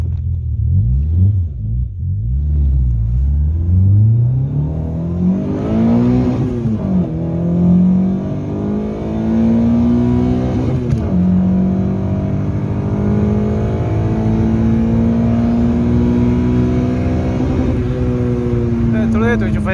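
A Peugeot 106 Rallye accelerates hard toward 180 km/h, its loud, close engine note climbing steadily in pitch with several gear changes along the way. The strain continues without a break for the whole run.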